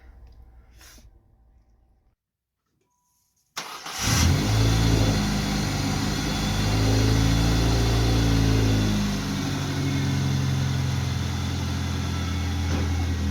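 A car engine is cranked and catches after a quiet stretch, then revs up loudly, with the revs swelling and falling back toward a steady idle.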